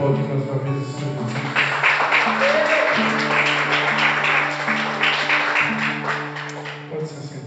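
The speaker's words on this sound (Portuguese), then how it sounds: "Pode aplaudir mais uma vez o Senhor Jesus." A church congregation applauding during worship, steady massed clapping over sustained keyboard chords and some voices, fading toward the end.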